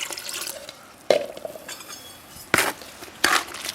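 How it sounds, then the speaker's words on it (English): Water poured from a jug into a lime mix outdoors, heard as a few separate splashing pours with liquid gurgles, each a second or so apart, at close range over quiet background noise. "I'm just going to add some water."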